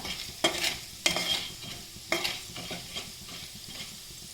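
Urad dal frying in hot oil in a pan for coriander-leaf thokku, with a steady close sizzle broken by several sharp scraping stirs of a spoon against the pan.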